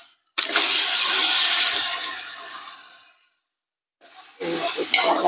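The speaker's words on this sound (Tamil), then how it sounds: "குடல் சேர்த்துக்கலாங்க. கிளறி விட்டுக்கலாம்." Mutton intestines being stirred with spices in a cooking pot in a village kitchen: a loud sizzling, scraping stir for about three seconds, a brief silence, then the stirring resumes.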